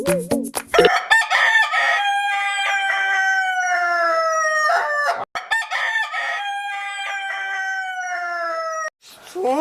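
A rooster crows loudly and close by in two long, drawn-out calls, with brief clucking and rustling at the start and between crows.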